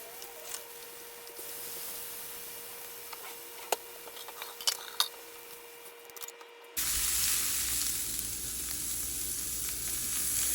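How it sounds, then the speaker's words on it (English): Brussels sprouts sizzle face down in a hot pan just used for salmon, a quiet crackle with scattered ticks, then the frying suddenly grows louder and fuller as more goes in. "we're adding the Brussels sprouts face down to get some caramelization and some presentation"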